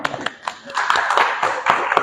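Audience applause breaks out at a live stage show, a burst of crowd clapping and cheering with voices mixed in, rising and staying loud for a couple of seconds.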